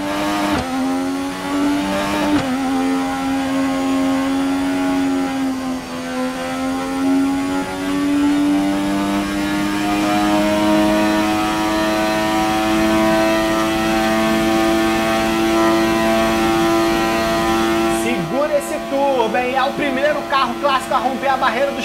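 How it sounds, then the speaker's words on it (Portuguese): A 1988 McLaren turbo Formula 1 car in the video game F1 2018 accelerates hard at close range. The loud engine whine climbs steadily through the gears for over twenty seconds, with a brief drop and shifts near the end. "Motor turbo, hein?"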